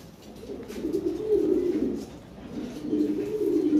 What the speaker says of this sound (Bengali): এই যে খুব ভালো কবুতর।